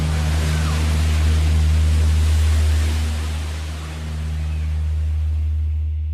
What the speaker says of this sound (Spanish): En el mar, las olas provocaban el caos.